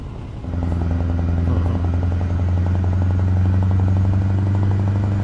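A heavy truck engine in Euro Truck Simulator 2 drones loud and steady after a short quiet start, with a deep low hum and rapid rhythmic pulsing as it pulls through a downshift, alone without talk.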